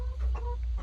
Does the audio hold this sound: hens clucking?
yes